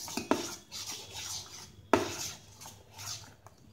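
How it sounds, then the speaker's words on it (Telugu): A spoon stirring mango juice in a bowl, with quiet scraping swirls broken by two sharp clinks against the side. "అటు ఇటు కలుపుకోవాలి."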